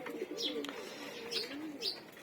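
Domestic pigeons coo repeatedly in a home loft, soft rolling calls in a steady rhythm with a few brighter chirps, close by and clear against a quiet background.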